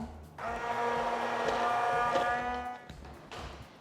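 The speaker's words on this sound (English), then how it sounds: "using your immersion blender, we're going to blend this until it's nicely combined" An immersion blender whirs steadily through gluten-free vegan financier batter, a close, continuous motor hum with a strong tonal whine lasting a few seconds before cutting off.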